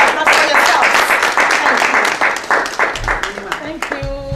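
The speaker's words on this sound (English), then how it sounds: "A big round of applause for yourselves." Loud, dense applause and clapping from a crowd at a foundation gathering in Ireland, sustained for several seconds with voices and a cheer rising underneath toward the end.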